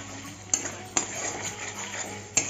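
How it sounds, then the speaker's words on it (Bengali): Spatula scraping and stirring cooked spice paste in an oily pan for a Bengali katla fish curry, with three sharp metallic clinks against the pan over a soft, steady sizzle. "এখন একটু নাড়িয়ে দেব"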